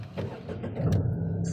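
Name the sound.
Tata Altroz car engine starting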